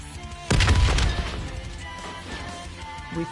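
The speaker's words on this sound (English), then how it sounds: "The explosion blocked our path." An explosion in the Call of Duty: Black Ops 3 Nightmares bonus mode: a sudden loud booming crash with crumbling debris, then a rumbling decay under game ambience for a few seconds.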